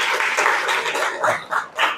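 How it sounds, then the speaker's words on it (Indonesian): Classroom students clapping for a group that just presented, a loud, close, uneven burst of hands that breaks into a few separate pulses toward the end. "Ya, silakan beri tepuk tangan ya."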